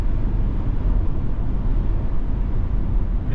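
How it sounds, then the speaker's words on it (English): Steady broadband wind roar fills the cabin of a 2025 Ford Bronco Sport Heritage cruising at highway speed, its boxy shape pushing through the air; a constant loud rush with low road rumble and no talking. "And you can hear the wind."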